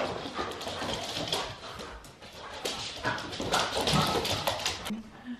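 Close-up dog activity with scuffling and pawing amid household movement, people talking nearby throughout.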